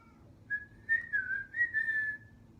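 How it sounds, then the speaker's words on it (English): A person whistles a short, wavering tune of several linked notes, clear and fairly close, alone against a faint low background hum. "he whistled all the way there"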